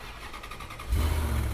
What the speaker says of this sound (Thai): สตาร์ทเครื่องให้ฟังหน่อย